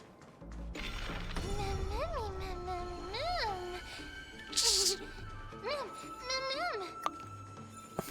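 A startled cat lets out several rising, drawn-out meows in a row, close and fairly loud, with a short crash-like burst partway through and a few quieter cries afterward.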